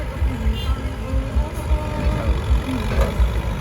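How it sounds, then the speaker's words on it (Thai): A farm tractor engine running close by, a steady low rumbling chug with a faint whine above it, continuous throughout. "รถไถของป๋าครับ"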